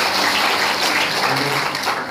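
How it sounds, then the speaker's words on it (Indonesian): Congregation applause during a church healing service, a loud, continuous roar of clapping that stays even throughout with no pauses. "Tepuk tangan buat Tuhan Yesus."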